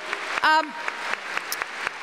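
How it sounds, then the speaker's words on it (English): Sparse, scattered claps from a festival audience in Melbourne, with a brief voice rising over them near the start; the clapping stays thin and uneven rather than building into a full ovation. "could I please have a big round of applause for Gareth Evans, Julian Burnside, Helen Razer, Jamila Rizvi, Rebecca Huntley,"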